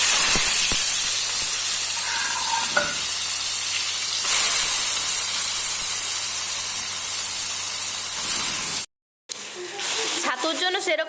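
Steady close hiss and sizzle of foraged chatu mushrooms, washed and soggy, cooking in oil in a home kitchen pan. The sound holds even for most of the clip, drops out briefly near the end, then returns with some clatter.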